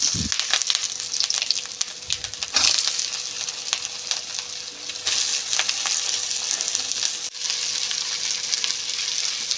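Potato pieces frying with curry leaves in a pan make a dense, steady sizzle, close and loud, with brief crackling bursts and a few stirring knocks.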